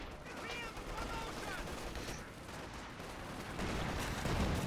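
Support guns firing in a Company of Heroes 2 battle, a dense and continuous rumble of gunfire and distant blasts under a voice.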